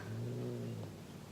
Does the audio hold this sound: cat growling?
yes